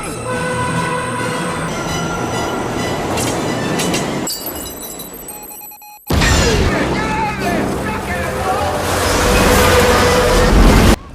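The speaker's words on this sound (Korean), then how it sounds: "제우스가 늦지 않게 전화를 받지만 맥클레인과 같이 오지 않았다는 이유로 폭탄을 터뜨리는 테러범" A bomb blast in a subway station scene from the movie Die Hard 3: train rumble and clatter build, a sharp break into brief near-silence, then a loud roaring burst with debris that swells and stays heavy.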